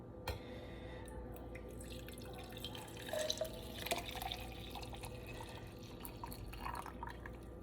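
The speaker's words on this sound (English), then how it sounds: "So I'm going to go ahead and drop this into my cocktail cup." A hot caramel milk mixture pours into a cocktail cup, giving a soft steady liquid trickle with a few brief splashy spots midway, close and fairly quiet.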